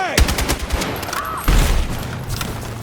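Gunfire in the Battlefield 6 campaign during an urban battle: bursts of rapid automatic shots and a heavy blast midway, loud and close, with shouted voices mixed into the combat.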